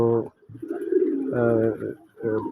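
Pigeons, including red and white young birds kept for sale, give repeated close, throaty coos in short rolling bursts separated by brief pauses.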